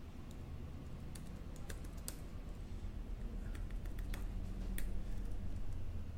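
Keys clatter on a computer keyboard while CSS and HTML code is typed, a steady run of quick close taps and clicks with no talking.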